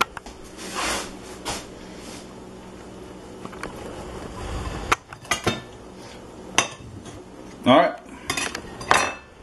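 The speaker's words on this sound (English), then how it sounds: "Let me get a knife here." Cutlery and dishes clink and rattle as a knife is fetched in a kitchen while brats are plated, with several sharp metallic clatters spread through the clip and a brief spoken word.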